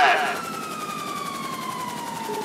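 Police car siren in GTA 5 wailing steadily from a fairly near distance, with a long falling sweep, during a patrol at a military base with a helicopter nearby; a voice briefly speaks at the start.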